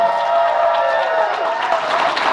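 Audience at a closing ceremony clapping and cheering in appreciation, a dense steady burst of applause with shouts, loud and sustained throughout.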